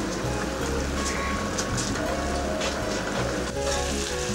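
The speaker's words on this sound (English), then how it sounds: "Now the liquid on fire is boiled." Liquid boiling hard on a fire after egusi is added, giving a dense, steady bubbling and hissing roar with faint crackles throughout, loud and close.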